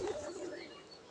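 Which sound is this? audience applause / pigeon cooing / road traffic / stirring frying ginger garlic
pigeon cooing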